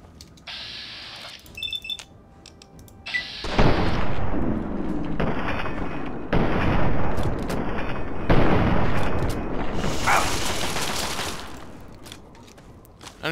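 Gunfire in the video game Fallout 3: after a quiet stretch with electronic beeps, repeated loud shots and bursts crash in close, with booming impacts and ringing tails over several seconds.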